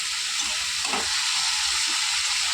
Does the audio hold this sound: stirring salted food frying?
yes